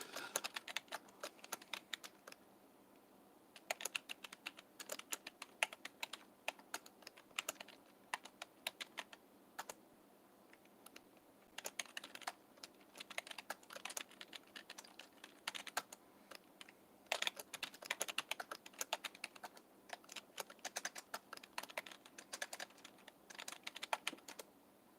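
Someone types on a computer keyboard during a live Q&A stream, making steady clusters of close, crisp key clicks in uneven bursts with short pauses and no voices.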